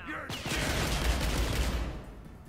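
A sustained burst of enemy gunfire in Riddick: Escape from Butcher Bay, a dense, continuous rattle lasting under two seconds that cuts off abruptly.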